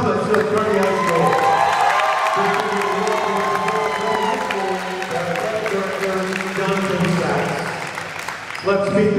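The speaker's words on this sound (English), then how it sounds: "Please join me in applauding the 2019 Division IV champions, the Comets of Kearny High School." A school gym crowd cheers and applauds the Kearny High Comets boys volleyball team as Division IV champions, loud sustained clapping with whoops and shouts throughout, dipping briefly midway and rising again at the end.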